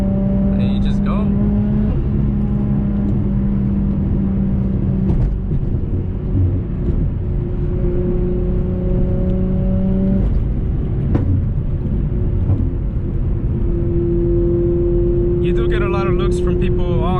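A right-hand-drive car on American roads downshifts and then accelerates, engine tone stepping between gears in a steady cabin drone, with someone talking over the sound.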